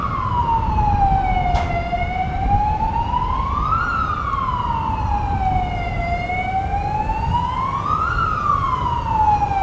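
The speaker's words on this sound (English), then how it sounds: "Sirens. Sounds like an ambulance." An ambulance siren wails near an airport, a loud continuous rising-and-falling tone cycling slowly and steadily over rumbling background noise.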